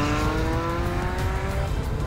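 A 400-horsepower 1984 Ferrari drives on an airport runway, its engine loud and close with a sustained, rising harmonic whine as it accelerates.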